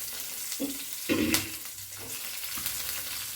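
Green chillies hit a hot pan for ridge gourd chutney, making a soft sizzle with brief stirring scrapes over a few seconds.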